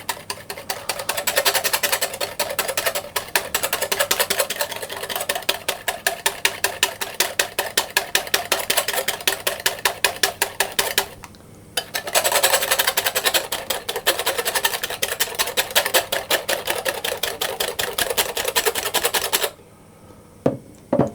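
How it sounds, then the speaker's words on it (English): Eggs whisked by hand in a bowl for a proper custard, a fast, steady run of close metallic ticks and scrapes that keeps going, halts briefly midway, then picks up again before stopping. "I'm just going to whisk them until it starts to turn a little bit pale."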